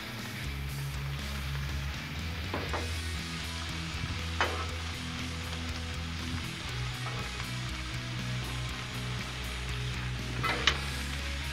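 Cheesesteak meat and mushrooms sizzle steadily on a hot griddle, a constant dense crackle with a few sharp scrape-like clicks from a spatula, close and fairly loud with no talking.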